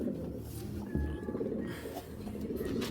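A pair of Giribaj pigeons, the hen an original blue-eyed bird, coos close by in repeated low rolling calls, clear and fairly loud with almost no talk.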